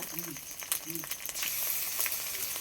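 Onions sizzling and frying in hot oil in a pan as ginger and garlic paste go in, a steady close hiss with brief soft clatters and a faint voice early on.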